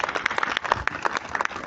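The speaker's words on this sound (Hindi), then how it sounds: "मैं चाहूँगी एक बार सब जोर से तालियां बजा दें।" Audience applause at a New Year 2023 calendar launch event at Smritivan, Maldevta, Dehradun: a short burst of scattered claps from a modest crowd, irregular and fairly close, lasting under two seconds.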